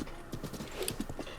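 Horse hooves clip-clop in a quick, even rhythm as a horse moves through the open world of Zelda: Breath of the Wild, with a brief whinny in the middle and no talk.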